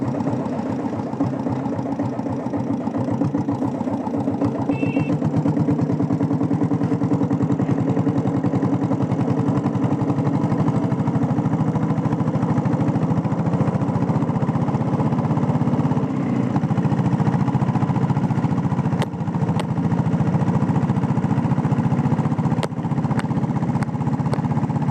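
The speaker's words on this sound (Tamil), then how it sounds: "வண்டி பீட் சூப்பராக இருக்குது ஃப்ரெண்ட்ஸ்." A restored Royal Enfield Diesel Bullet motorcycle engine runs as a steady, loud, unbroken low drone for the whole stretch while riding, with no speech.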